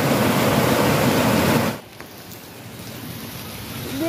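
A river in flood lashes with a loud, dense rush of churning waves and surging water for over a second, then drops abruptly to a quieter, steady wash with faint low rumble.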